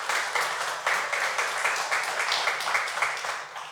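A crowd at a park anniversary celebration applauds the park attendants, with dense clapping throughout that fades slightly toward the end.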